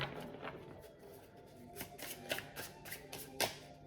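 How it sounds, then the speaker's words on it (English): A Rider-Waite tarot deck is shuffled by hand in quiet, close-up bursts of papery riffles and soft card snaps, with no voices. "I already shuffled it, but I'm going to shuffle it a little bit more"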